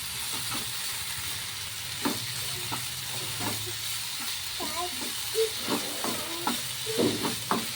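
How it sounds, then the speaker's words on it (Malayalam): Ginger garlic paste is sautéed in a pan for a home-cooked chicken curry. A soft sizzle runs under irregular scrapes and taps of a spoon stirring, all fairly quiet and close. "ഇനി ഇതിൻ്റെ പച്ചമണം ഒന്ന് മാറി വരുന്ന വരെ നന്നായിട്ടൊന്ന് വഴറ്റുക."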